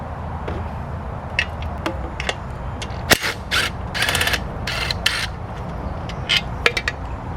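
Ratchet removing 8mm bolts from the gas tank of a Predator 79cc engine, rapid clicking pawl bursts in short repeated strokes, close and fairly faint over a steady background hum.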